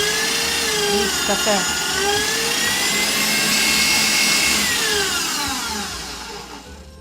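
An electric mixer whirs steadily and loudly close by as it beats carrot cake batter while eggs are added, its pitch shifting a little before the motor winds down near the end, with a voice speaking briefly over it.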